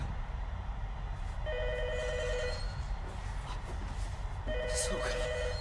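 A telephone rings in two bursts of trilling bell tones in a scene from the 1998 Japanese horror film Ringu, over a low background rumble.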